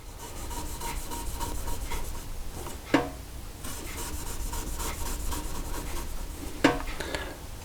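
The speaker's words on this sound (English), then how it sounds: "I'm just going to slice some thin slices of potato but not go all the way through" Knife cutting thin 2 to 3 millimeter slices partway into a potato for hasselback potatoes, a close, repetitive scraping and rubbing rhythm with two sharper clacks against the board.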